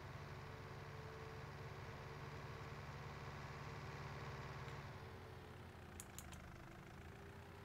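A farm vehicle engine in Farming Simulator 19 drones steadily and quietly while driving, a constant low hum heard from the cab interior, with a few faint clicks near the end.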